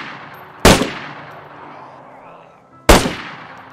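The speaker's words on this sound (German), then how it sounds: "Deine Schüsse hört man schön weit." Gunshots in the video game DayZ on the Takistan desert map: two sharp, loud single shots about two seconds apart, each trailing off in a long echoing decay.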